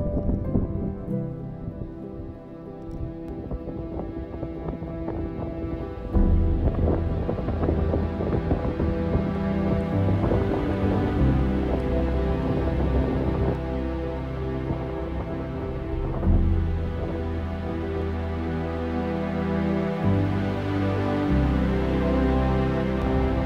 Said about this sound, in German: Mit sehr viel Wind.